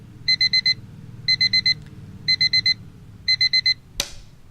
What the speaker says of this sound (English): So we start off with the alarm going off